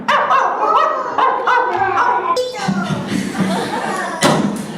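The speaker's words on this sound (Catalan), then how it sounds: "Aquest gos és en Duki" A dog barks and yips several times during a street performance of music, ventriloquism and clowns outside the Sagrada Família, with voices and crowd noise mixed in.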